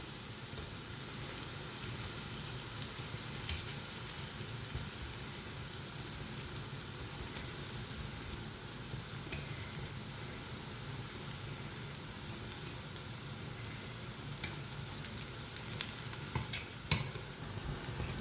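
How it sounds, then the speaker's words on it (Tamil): Urad dal vadas frying in hot oil give a steady, soft sizzle with fine crackling throughout, low and even, with no voices. "எல்லா வடையையும் போட்டு பொரிச்சிட்டு"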